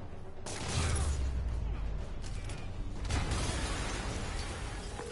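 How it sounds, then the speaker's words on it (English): An explosion in a Spider-Man video game comes as a deep rumbling blast with crackling debris, swelling at the start and again about three seconds in, heard without talk. "an explosion just..."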